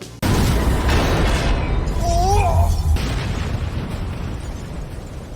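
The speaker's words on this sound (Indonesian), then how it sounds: "Mobil pun lalu meledak dan juga terbakar." A sudden loud blast as a car explodes after hitting a road barrier, then a sustained roaring rumble of burning, with a brief rising tonal whine partway through.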